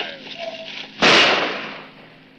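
A single loud pistol shot bursts out during a duel in an old western television episode, ringing over a steady background hum and fading slowly.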